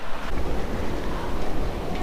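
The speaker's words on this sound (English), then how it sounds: "It is pouring down rain again." Steady heavy rain pours down outdoors, a dense unbroken wash of noise drumming on parked cars, loud and close with no voices.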